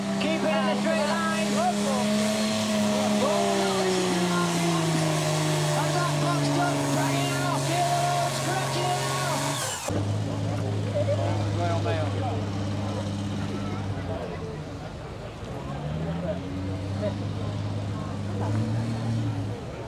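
The Bad Medicine common rail diesel puller tractor roars loudly and close, its engine pitch sweeping up and down as it pulls, with a cut midway to another stretch of hard revving.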